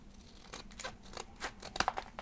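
Scissors snip folded paper to trim a hexagonal snowflake, a handful of crisp close cuts with light paper rustling between them and no speech.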